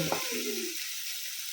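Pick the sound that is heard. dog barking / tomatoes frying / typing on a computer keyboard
tomatoes frying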